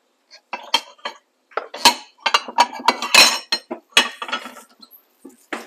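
In a home kitchen, plates and dishes are pulled out and set down, giving a rapid series of close ceramic clinks and clatters with brief pauses in between.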